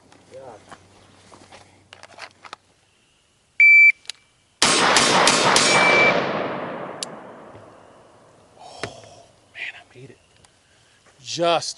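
After a timer beep, a sharp rifle shot cracks and strikes a Terminator-shaped steel target, ringing out with a long, loud decay. Footsteps, handling noise and speech come before and after.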